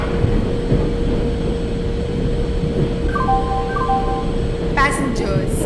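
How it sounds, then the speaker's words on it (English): A passenger express pulls into a platform in the Indian Train Simulator game, a steady loud rumble with a constant hum, a rising chime-like tone sequence and a brief horn-like burst near the end. "Passenger express is arriving at platform"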